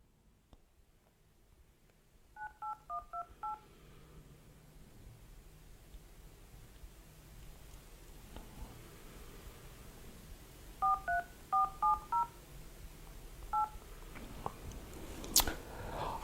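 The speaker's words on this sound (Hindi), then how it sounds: "अब हम फोन मिलाते हैं।" Touch-tone phone keypad dialing, a quick burst of about five beeps followed by a second run of eight or so tones and a final single beep, clear over a low hum with no talking.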